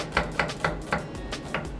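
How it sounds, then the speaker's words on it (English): A sharp knife chopping an onion on a cutting board in a home kitchen, six crisp evenly spaced chops close to the microphone, with no talking. "I'm chopping the onion."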